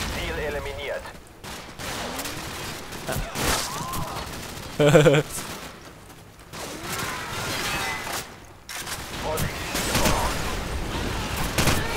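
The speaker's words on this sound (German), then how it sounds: "Wo kommen die Schüsse her?" Bursts of rapid gunfire crackle in the middle distance in Call of Duty 4: Modern Warfare, mixed with a sharp burst and scattered game noise, with occasional voices underneath.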